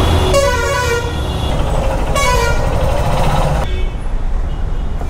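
Heavy road traffic in Puducherry, India, with a loud engine rumble throughout and two long, blaring vehicle horns, followed by a shorter honk, all close by and with no speech.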